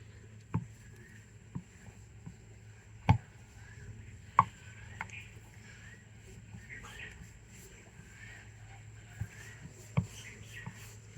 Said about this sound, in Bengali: এটাকে রুটির মতো বেলে নিয়েছি